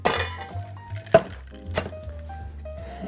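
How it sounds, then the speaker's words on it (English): Ice cubes dropped into a cocktail glass for a strawberry almond sour, giving a few sharp, bright clinks and knocks close by, with two distinct louder impacts amid lighter rattling and no talking. "drop in some ice cubes there"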